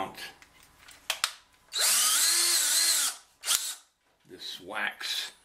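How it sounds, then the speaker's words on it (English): An electric drill whirs loudly for about a second, with brief clicks and handling noises around it. "get out my trusty drill"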